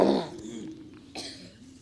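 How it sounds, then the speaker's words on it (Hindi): Throat-clearing cough to loosen phlegm during a breathing and neck-massage exercise routine, two short rough bursts close to the mic, the first louder, with no talking. "थोड़ा खांस करके कफ को छुड़ाएं"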